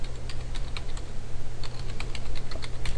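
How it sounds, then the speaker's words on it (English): Computer keyboard keys being typed to enter a password, quick irregular clicks and taps close up over a steady low hum, with no speech. "we can type in our password."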